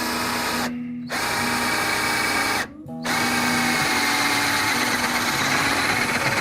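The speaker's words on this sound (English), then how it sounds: "So I come in here with a 1-inch drilling bit, which is gonna open it up." Power drill fitted with a 1-inch bit boring into a wooden cigar box for a guitar build, a loud close whine that stops briefly twice and then runs steadily.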